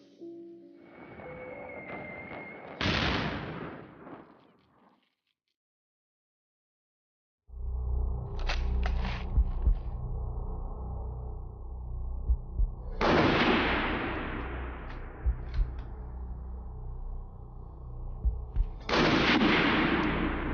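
First World War machine guns fire in loud, sharp bursts: one burst, a stretch of silence, then continuous rattling broken by two more heavy volleys, each cracking out sharply.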